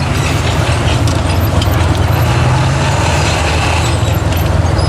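Continuous heavy mechanical rumble with a steady rattling clank from a T-34/85 tank's track links striking the drive sprocket, loud and close throughout.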